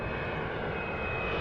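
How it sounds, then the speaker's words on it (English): A passenger airplane lands on a runway at Vancouver Airport, a steady loud jet roar filling the whole stretch without pause. "why do we have an airplane landing on runway"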